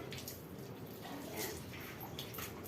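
Water being poured sparingly while a Belgian dog is bathed, with soft, continuous splashing and dripping nearby and no talk.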